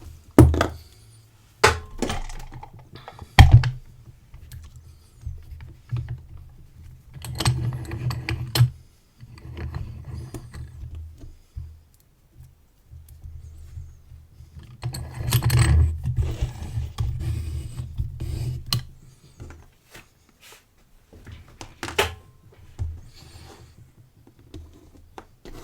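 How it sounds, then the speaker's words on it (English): Tiny Facchinetti door locks held in a vise being picked, with scattered metallic clicks, scrapes and rattling in uneven bursts, close and fairly loud against quiet gaps. "we'll have a go at picking and breaking these locks"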